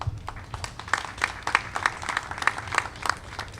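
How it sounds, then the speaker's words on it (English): A small audience gives a round of applause at a Brownsville, Brooklyn community innovation event: scattered clapping with some distinct individual claps over a low rumble, moderately loud, with no talking. "round of applause"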